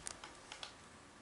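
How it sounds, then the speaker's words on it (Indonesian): A few quick keystrokes clack on a computer keyboard while a script is being typed for debugging, four or five light, close taps spaced unevenly over a quiet background. "Misalnya kita ngetik CL gitu ya"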